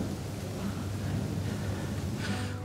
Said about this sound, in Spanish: La tormenta empieza a llegar acompañada de lluvia, así que tenemos un problema. Los truenos.